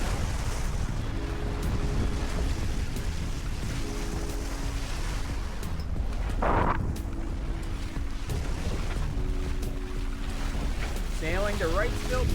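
A sailboat sailing solo on the Atlantic Ocean, with steady wind and wave wash around the hull, a hum running underneath and a brief splash midway.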